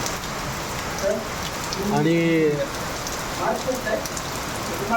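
Heavy monsoon rain pours down steadily on open ground in Maharashtra, a dense hiss that fills the whole stretch, with a voice speaking briefly over it.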